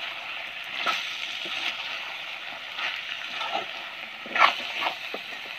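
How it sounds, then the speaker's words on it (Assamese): Chicken with chopped lafa greens frying in a pan, a steady sizzle with occasional louder crackles and stirring scrapes, close and alone without talk. "এতিয়া আমি ভাজিম আৰু এবাৰ।"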